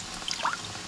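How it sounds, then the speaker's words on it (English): Rice vinegar is poured briefly into a small bowl already holding soy sauce and garlic, mixing a sauce for a cabbage and chicken stir fry: a faint, short liquid trickle lasting under a second. "adding in the rice vinegar"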